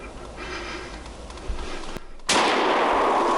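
Rifle shot at a whitetail deer on a Saskatchewan hunt, one sharp outdoor crack that gives way to a loud rushing wash of noise, heard without talking.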